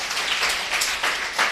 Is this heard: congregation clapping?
yes